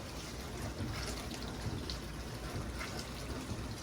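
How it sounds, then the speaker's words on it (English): Soft, steady water sloshing and trickling inside a KitchenAid dishwasher after a clog was cleared, continuous and fairly quiet with a faint mechanical hum beneath. "I can hear water sloshing."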